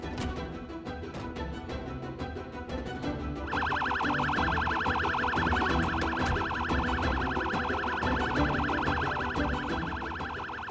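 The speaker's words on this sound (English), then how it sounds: "So after switching on the siren, I would drive a little further up the road" An ambulance siren in the video game Project Zomboid switches on partway through and then wails steadily and loudly, layered over ongoing game background noise.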